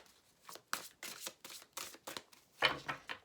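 Tarot cards shuffled by hand before a card draw, a close run of quick riffling bursts in an irregular rhythm, ending with a slightly louder flutter.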